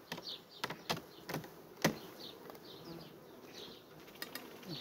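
Honey bees buzzing around an open hive during autumn nest reorganisation, a soft, continuous hum with a few sharper close passes and brief knocks, faint and without voices.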